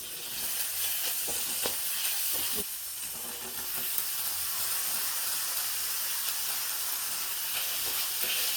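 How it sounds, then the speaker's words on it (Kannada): Potatoes and peas frying in a pan for a soya chunks aloo matar curry: a steady, close sizzle and hiss, with occasional scraping stirs and small clicks running throughout. "ಇವಾಗ ಆಲೂಗಡ್ಡೆ ಮತ್ತು ಬಟಾಣಿ ಹಾಕ್ಕೊಳ್ತಾ ಇದ್ದೀನಿ"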